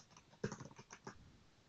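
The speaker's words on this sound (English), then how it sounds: "I hear typing." Quick typing on a computer keyboard, a short burst of faint, close clicking keystrokes in an uneven patter, heard alone over a low background hiss.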